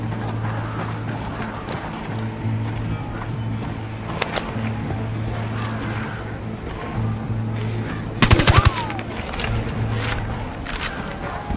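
Gunfire in Ghost Recon Wildlands comes as one short, sharp burst of rapid shots late in the moment. Before it there is a steady low hum and a few scattered clicks.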